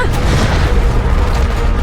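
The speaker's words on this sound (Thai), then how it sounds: "ทิ้งระเบิดกันลงมา" Heavy booming explosions from bombs in Call of Duty: Modern Warfare Remastered rumble continuously, dense low thuds piling up like a barrage going off close by, loud throughout.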